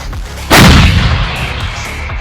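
A single loud, close howitzer blast booms out, followed by a long rumbling echo that slowly fades.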